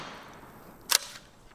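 A Megalodon .50 caliber pump-action air gun fires a single sharp, loud shot near the middle, with a short fading tail after the crack and only quiet background before it.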